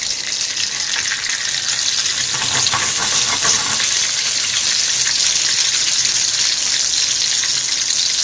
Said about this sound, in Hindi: अब सिंपल हमें सिर्फ इसको हरी मिर्चों को तलना है।